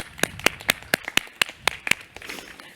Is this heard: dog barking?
no